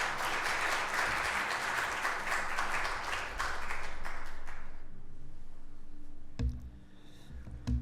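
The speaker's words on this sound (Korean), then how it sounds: "우리 한번 박수로 한 번 더 격려해드리면" A church congregation applauds during a Sunday worship service, the thick clapping holding steady for several seconds before fading into quiet room noise and a few soft thumps.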